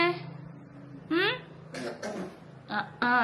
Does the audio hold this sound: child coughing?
yes